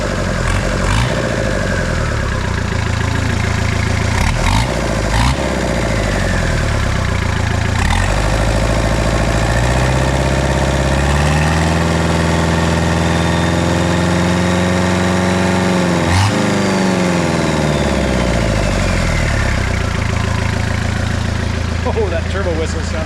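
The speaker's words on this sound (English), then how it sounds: "Oh, that turbo whistle sounds good." Diesel engine in a Suzuki Samurai with a new turbo and manifolds and no exhaust fitted, idling loud and close with a steady rumble while a rising and falling turbo whistle sweeps over it; a person talks over the engine.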